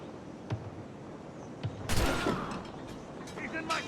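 A gunshot in Assassin's Creed Rogue: a loud, sharp blast near the middle, with a few fainter clicks and mechanical noises around it and shouted talk nearby.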